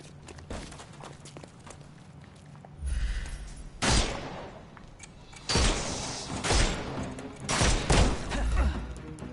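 A big gun in the Sherlock Holmes: Chapter One game fires several heavy, booming blasts at irregular intervals, loud and close against a quieter rumbling background.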